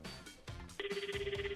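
A telephone ringback tone sounds on an outgoing call that goes unanswered. It starts partway through after some faint sounds and keeps up a steady, pulsing electronic ring at low volume.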